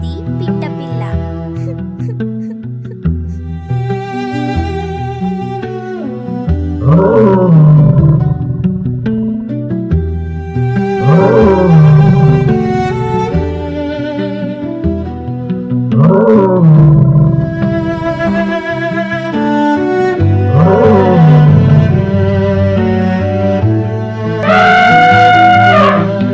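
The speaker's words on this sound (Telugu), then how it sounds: "పెద్ద గర్జనలతో సింహం వస్తోంది." A lion roars again and again as a sound effect in a Telugu moral tale, with deep, loud roars swelling at regular intervals over a music bed and no talk.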